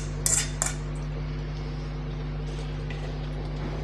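Tempering stirred into brinjal thokku in a pan, with a couple of sharp utensil clinks against the pan near the start, then faint scraping over a steady low hum.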